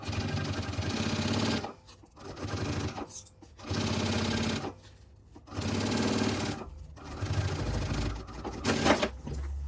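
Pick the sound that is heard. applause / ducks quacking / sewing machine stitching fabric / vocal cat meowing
sewing machine stitching fabric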